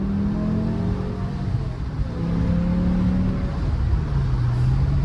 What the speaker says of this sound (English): let you listen to the S85 V10